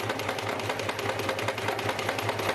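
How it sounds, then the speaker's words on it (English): A sewing machine runs steadily, its needle mechanism ticking in a fast, even rhythm over a low motor hum, heard alone and close. "It's a sewing machine."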